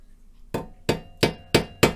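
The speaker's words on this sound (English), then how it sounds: "I'm going to take the hammer and tap it." Five sharp metallic hammer taps on a nail tip held in a vise, at a steady pace after a brief quiet start, close and clear with no talking.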